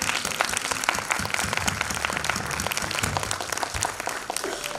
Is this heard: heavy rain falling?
no